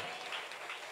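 Church congregation clapping in praise, a brief burst of dense, steady applause heard from within the room, fairly faint.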